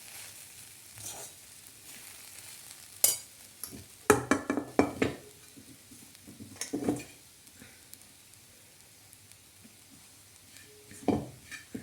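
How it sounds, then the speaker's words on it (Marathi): Upma being stirred and sautéed in a pan, a faint low sizzle broken by scattered scraping and clinking of a spoon against the pan, louder in short bursts. "चांगलं परतून घ्यायचं"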